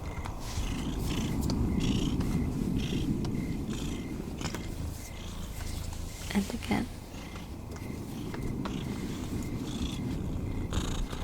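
A steady, low rumbling cat purr runs continuously, close up, with a soft voice speaking briefly over it.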